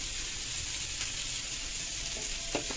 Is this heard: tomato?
yes